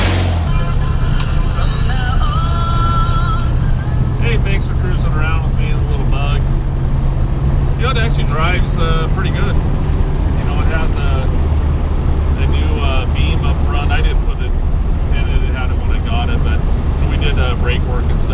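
A 1965 Volkswagen Beetle cruises at about 50 mph, its steady engine drone and road and wind roar filling the cabin continuously, with someone talking over it.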